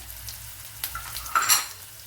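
Garlic, ginger and green chillies sizzle and fry steadily in a hot pan, with a few sharp stirring scrapes and clinks of a spoon partway through; the frying stays close and continuous with no voices.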